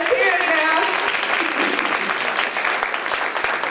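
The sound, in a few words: conference audience applause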